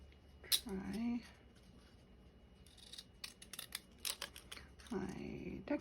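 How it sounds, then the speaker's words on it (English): Decorative scissors snip through paper in two short bursts of close, crisp cutting, separated by quiet rustling and small handling clicks. "my decorative scissors"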